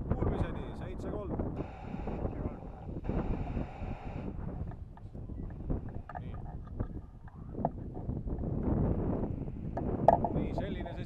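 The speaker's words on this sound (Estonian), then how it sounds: "tuul on kõva" Strong wind roars and buffets across the microphone in gusty, continuous rushes, loud and close, outdoors near a boat on the water.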